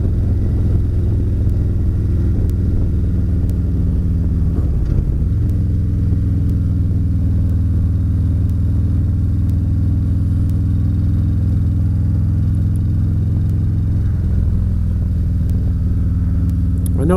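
A motorcycle engine rumbles steadily while riding on a winter road, droning loud and close with a brief shift in pitch around the middle and again near the end.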